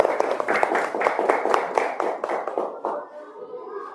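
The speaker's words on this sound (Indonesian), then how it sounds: "Tepuk tangan untuk Maisarah." A classroom group claps for a student, a brisk run of sharp hand claps that fades out near the end.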